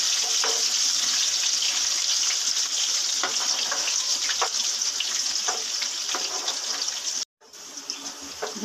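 Sliced onion with nigella and fenugreek seeds fries in hot mustard oil, giving a steady, close, hissing sizzle with small crackles throughout and a brief break near the end before the frying noise picks up again.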